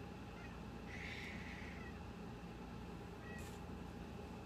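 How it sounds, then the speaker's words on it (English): A cat meows for food indoors, one drawn-out mewl followed by a shorter, fainter cry, fairly quiet against a steady background hiss. "my cat is saying, feed me."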